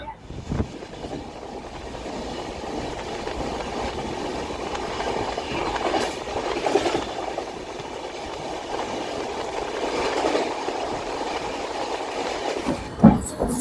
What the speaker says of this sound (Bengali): ট্রেন ছেড়ে দিয়েছে, এখন আমরা যাচ্ছি